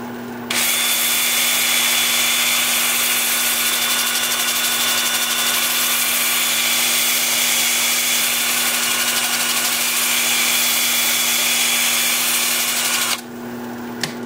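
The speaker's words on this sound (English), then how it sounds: "I'm going to start the sanding at 80 grit with my 2-inch disc. I'll have the lathe spinning forward at 350" A wood lathe spins steadily while a 2-inch sanding disc on a drill works the turning, making a loud, constant whirring hum with a steady tone. It runs alone, without pause, for about thirteen seconds.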